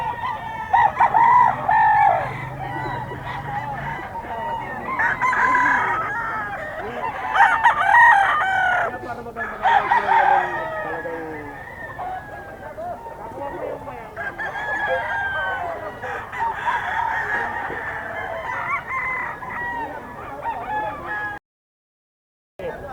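Roosters at a fowl market in Bocaue crow repeatedly and loudly, with overlapping crows, clucks and other birds, and voices chatting in the background.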